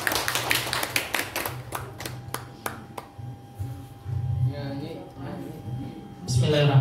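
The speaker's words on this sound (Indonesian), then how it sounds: "Tepuk tangan." A small audience at a school dissemination session gives a brief round of scattered hand claps, about a dozen distinct claps over three seconds that thin out, with low voices and murmuring continuing underneath.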